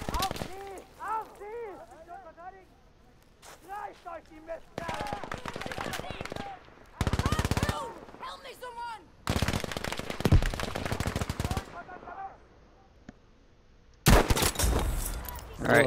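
Bursts of rapid machine-gun fire in a shooter video game come in several loud, separate volleys between stretches of someone talking, with gaps of quieter game sound in between.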